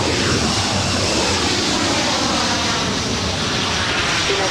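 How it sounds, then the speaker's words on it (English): A United Boeing 737-800 jet departs LAX for Lihue, giving off a loud, steady, broad engine roar that holds unbroken throughout. "This departure is United 1295 departing to Lihue."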